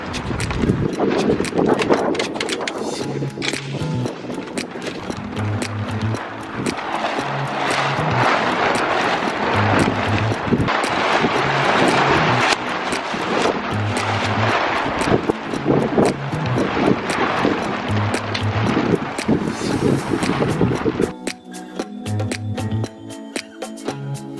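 Strong wind roars steadily across an open homestead farm, buffeting the microphone with loud, continuous gusts and low rumbling throughout, with rattling and flapping noises mixed in.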